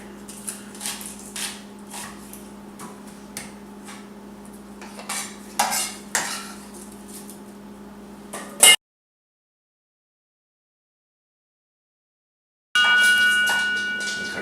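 A kitchen knife chops an onion on a cutting board while bison chili is prepared, giving a string of irregular close taps and scrapes for several seconds, then silence, then a steady background hiss.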